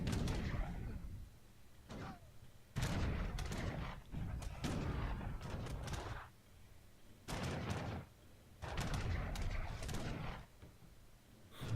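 Artillery in a 1v1 real-time strategy match fires in repeated heavy booming volleys, each burst loud and followed by short gaps, with several shots clustered in rapid succession.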